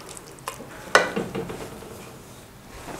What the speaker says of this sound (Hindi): तेज़ फ्लेम में आपने इसको अच्छी तरह मिक्स करना है।